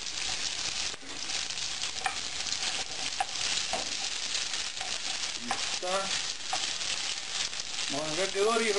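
Onion and rocoto chili fry in a pan with a steady, close sizzle and crackle, briefly stirred; a voice speaks over the frying near the end.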